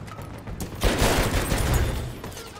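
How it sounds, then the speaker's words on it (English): Enemy gunfire in Battlefield 1 erupts in a sudden loud burst of rapid shots and cracks that swells and then trails off, close and dense, with no talk over it. "They're shooting from behind there."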